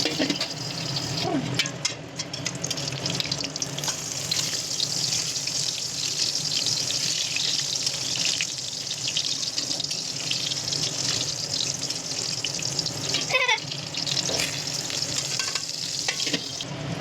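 Eggplant slices fry in hot oil, giving a continuous soft sizzle and hiss with faint clinks and water-like bubbling underneath. The sound stays even and close, with no clear speech.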